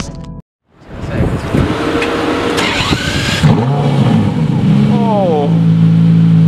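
An Aston Martin One-77 supercar engine rumbles and revs, rising after a brief silent gap, with people talking over the steady engine note.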